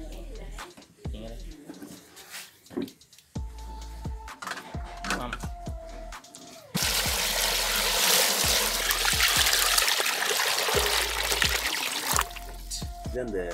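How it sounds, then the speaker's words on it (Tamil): Water pours or runs steadily to soak a carved wooden ladle, a loud close rush that starts partway through after a stretch of speech and clattering handling, continuing to the end. "இதை என்ன செய்யணும்னு சொன்னால் இனி ஒரு நாளைக்கு தண்ணியில் ஊற வைக்கணும்"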